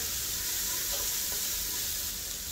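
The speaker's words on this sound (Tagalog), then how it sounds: "Nagisa na natin ang luya tsaka sibuyas." Ginger and onion sautéing in hot oil give a steady, close, even sizzle that holds for the whole stretch, with no voices.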